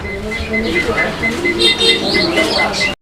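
Racer pigeons coo softly nearby, low throaty calls mixed with faint chirps, while someone talks over them.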